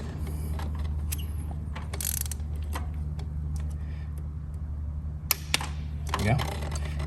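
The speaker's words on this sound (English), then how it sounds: "Now once you have it finger tight all the way, you want to torque these down" A torque wrench tightening spark plugs to 23 Nm on a BMW N63 V8 engine, quick close ratcheting clicks in short bursts with a faint click near the end, while someone talks.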